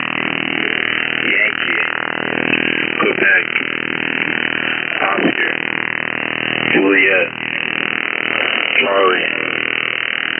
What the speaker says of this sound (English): what you're hearing here is that fuzz noise is the radar